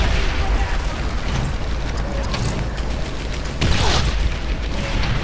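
An artillery shell streaks past amid wartime battle in the Medal of Honor Airborne game, a rushing whoosh over continuous rumbling combat noise with a sharper burst near the end.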